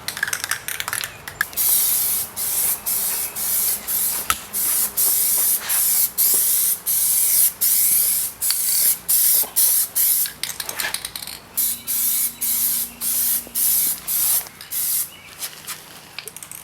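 Loud, close hiss of Plasti Dip glossifier sprayed from a can onto a Mercedes-AMG E63 S grille, in repeated short bursts separated by brief gaps, with no talking.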